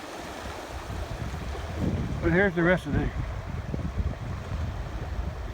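Steady rushing of a rain-swollen creek overflowing its banks and flooding pastures, a broad continuous wash heard outdoors while someone talks briefly over it.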